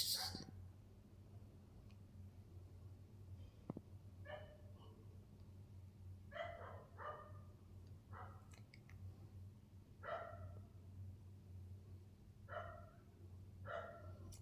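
Dogs bark at night from some distance, repeated short barks in irregular bursts over a low steady hum, faint and alone without talk.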